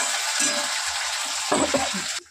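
Ginger and green chili sizzling in hot oil, a steady crackling hiss with a few clinks of a utensil stirring near the end.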